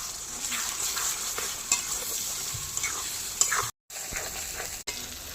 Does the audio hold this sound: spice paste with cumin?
yes